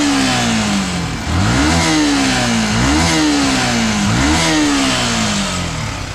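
A motorcycle engine revs repeatedly and loudly up close, climbing in pitch and dropping back in a steady rhythm of about four throttle blips.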